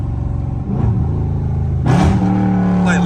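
Catless Dodge Scat Pack exhaust during a sport mode downshift, a loud close rumble that surges in a sharp rev blip, followed by a deep steady growl.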